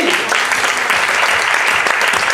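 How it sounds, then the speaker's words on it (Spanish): A church congregation claps together in a sustained, dense round of applause that holds at an even level from start to finish. "Denle una ofrenda de palmas al Rey."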